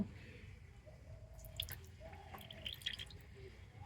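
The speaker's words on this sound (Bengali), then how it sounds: "আর এবার আমি পেয়ারা পাতার রসটা দুটো বাটিতে করে নিয়ে নেব।" Guava leaf juice drips and squishes through a strainer into bowls, with soft wet trickles and a few sharp drips, close and faint, with no voices.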